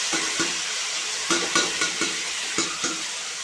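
Oil sizzles in a pan as dried red chillies fry before potatoes go in for aalu ki bhujiya, a steady close hiss broken by a few light stirring clinks.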